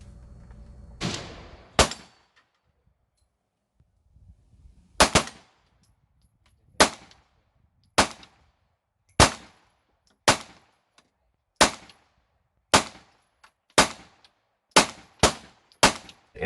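Micro-9 pistol fired at a paper target beyond 25 yards: about a dozen sharp, loud gunshots, first a close pair, then a steady series that quickens toward the end, with quiet gaps and no talking.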